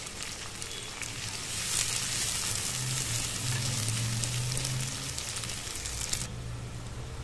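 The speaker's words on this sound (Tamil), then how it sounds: "இப்போ இதை எல்லாத்தையும் நம்ம நல்லா கலர் சேஞ்ச் ஆகிற அளவுக்கு வதக்கி விட்டுருவோம்." Salted onions sizzle and crackle steadily in a hot pan for a fish curry, a continuous frying hiss with occasional stirring scrapes, close and fairly loud, no talking.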